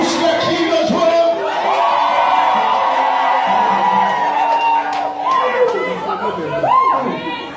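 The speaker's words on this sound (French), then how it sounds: "Pousse les cris de joie." Church seminar congregation in Yopougon shouting cries of joy: a loud, sustained mass of overlapping voices, whoops and cheers, with a leading voice rising over the crowd.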